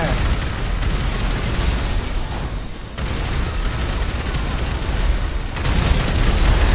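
A car explodes in a shooting-rampage video game, a dense, loud blast and roar of debris and noise filling the whole clip, with a short dip near three seconds before the din resumes.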